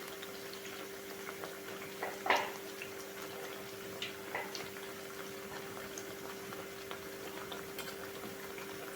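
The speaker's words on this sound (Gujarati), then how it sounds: "પૂરીને આપણે સ્લો ફ્લેમ પર જ તળીશું" Farsi puri fry in hot oil on a slow flame, a soft continuous bubbling sizzle with a few brief crackling pops and a steady low hum behind it.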